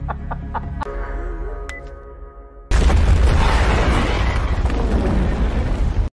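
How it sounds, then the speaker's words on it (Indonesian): Chickens cluck over a low hum, then a sudden loud film explosion erupts into a sustained roaring blast that continues to the end. "siap memicu ledakan"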